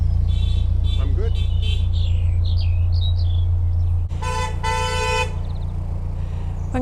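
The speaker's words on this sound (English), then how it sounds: "they just beep and like full speed over it" Cars toot their horns as they speed over a narrow bridge, with a few short beeps and then a longer loud honk above steady engine rumble, while birds chirp faintly.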